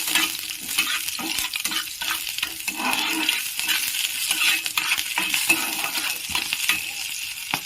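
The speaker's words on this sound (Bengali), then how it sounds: "এরপর এর সাথে আমি দেব কাঁচা লঙ্কা চেরা। এটাও ভালো করে ভেজে নেব।" Slit green chillies fry in a pan for a Bengali-style chicken do pyaza, giving a steady close sizzle with scattered stirring clinks and scrapes throughout, no voices.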